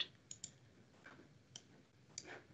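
Faint, sparse clicks of computer keyboard keys being pressed on a Windows 10 PC, a few separate taps spaced apart in a quiet room.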